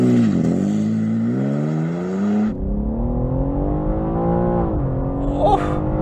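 A new BMW M3 launches hard in second gear on a test strip, its engine note climbing steadily and loud, then dropping briefly at a shift before pulling again with a rising roar close by.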